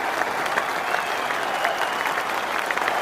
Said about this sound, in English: now just listen to the applause as Lords, this famous old ground, rises to Sachin Tendulkar as he leaves the playing arena